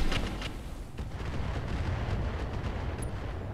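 Weapons firing in the Roguetech BattleTech mod, a few sharp bursts at the start followed by a rumbling, booming wash of fire that holds steady at moderate loudness.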